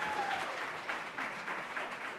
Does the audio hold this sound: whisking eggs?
no